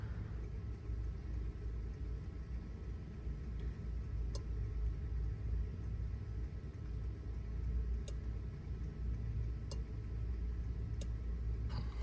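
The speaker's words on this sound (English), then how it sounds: "as I blow into it, you'll be able to hear or see the airspeed come up, and then eventually you'll hear a click" An airspeed switch on a Viking Auto Axion System clicks as air is blown into the pitot tube: a few sharp, isolated clicks at irregular intervals over a steady low rumble.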